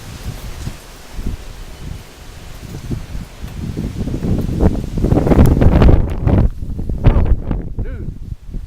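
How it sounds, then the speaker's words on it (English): Strong gusts of wind rush through rustling leaves ahead of a lightning storm. The roar builds from moderate to loud, with buffeting wind noise on the microphone and no talk. "here comes the wind. Really picking up now."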